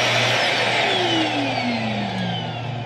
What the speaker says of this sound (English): Hook your vacuum up here, turn that on.